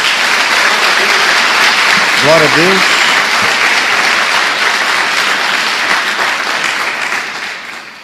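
A church congregation claps loudly and continuously, with a voice briefly calling out over the applause before it slowly fades toward the end.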